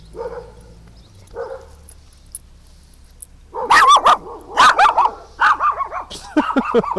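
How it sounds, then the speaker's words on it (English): Small dogs bark in a quick, close burst of sharp yips and barks that starts after a few quiet seconds with faint low rumble, then repeats in rapid uneven volleys. "There's no reason to bark like a fool."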